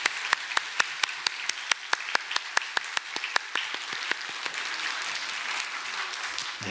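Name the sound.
church congregation applauding in encouragement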